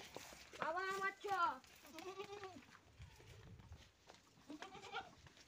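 A castrated male goat at a rural sale bleats several times in wavering, nasal cries at close range, mixed with people talking nearby.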